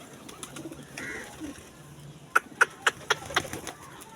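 Pet pigeons cooing close by, a series of five or six soft rhythmic coos in the second half over quiet background noise.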